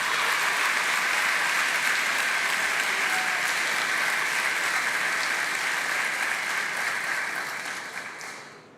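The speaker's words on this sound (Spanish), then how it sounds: "Por si no se escuchó por los aplausos" Sustained applause fills a legislative assembly chamber in Argentina during a speech, a dense steady wash of many hands that stays loud for most of the stretch, then fades toward the end.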